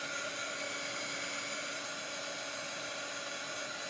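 A hair dryer blows steadily and close by, drying chalk paste on a handmade leprechaun craft gnome; its even whooshing hiss runs without a break and no one talks.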